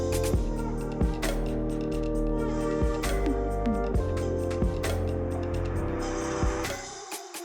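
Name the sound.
Ford Bronco driving off to start off-road trail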